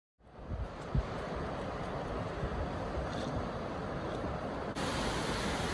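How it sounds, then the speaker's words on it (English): Athabasca Falls, a powerful 23-meter waterfall in a Canadian Rockies canyon along the Icefields Parkway, gives a steady, dense roar that holds evenly and loud throughout, with no voices. "Athabasca Falls may not be the tallest waterfall in the Canadian Rockies, but it is one of the most powerful"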